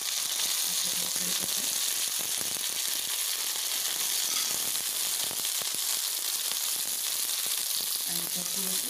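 Hot oil sizzles softly in a pan for a tempering of cumin, a faint steady hiss with occasional clinks of a utensil and brief speech in the background.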